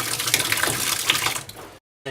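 A trumpet being rinsed under a running tap: a close, uneven splashing stream that stops abruptly, followed by a brief silence.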